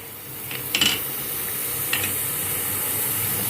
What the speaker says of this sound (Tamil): இப்போ ஃபர்ஸ்ட் ஆயில் வந்து நல்லா ஹீட் ஆயிடுச்சு. ஸோ நம்ம வச்சிருக்க சீரகம் மிளகு ரெண்டுத்தையும் சேர்த்துக்கலாம்.